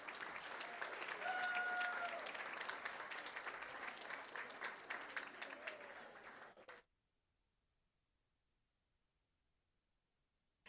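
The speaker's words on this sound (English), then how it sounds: "Let's give them a big round of applause." An audience at a school district board meeting applauds in a steady, dense burst of many hands for several seconds, then the clapping stops abruptly into near silence.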